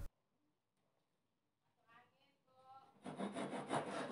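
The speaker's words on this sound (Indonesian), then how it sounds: "Lalu dipotong dan dirapikan dengan gergaji tangan dan pahat." Quiet start, then a hand saw rasps through Indonesian pine wood in quick back-and-forth strokes, growing louder and steadier toward the end.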